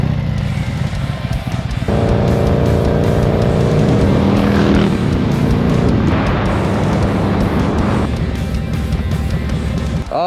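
A Harley-Davidson CVO RR motorcycle with a cut muffler accelerates hard, a loud, raw engine roar climbing through several gear changes, close and dominant throughout.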